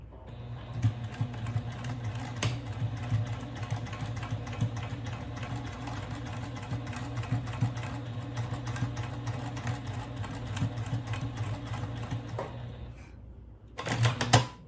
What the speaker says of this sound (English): Okay, now I'm sewing at the other side.